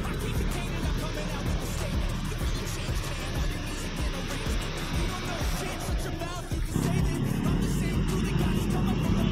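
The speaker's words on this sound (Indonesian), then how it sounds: "Ini busnya ada berangkat juga ya." A Putra Pelangi bus pulling away from a terminal, its engine a steady low rumble that swells and shifts in tone as it departs, with faint talk in the background.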